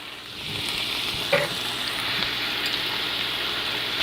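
Onion hitting very hot oil over high heat throws out a loud, dense, continuous sizzle close to the pan, with a brief stirring clatter partway through and no talking.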